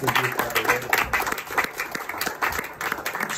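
A church congregation at a deliverance prayer service applauds loudly, with dense clapping and scattered cheers and shouts rising and falling throughout, close and energetic.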